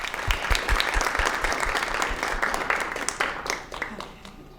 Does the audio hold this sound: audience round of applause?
yes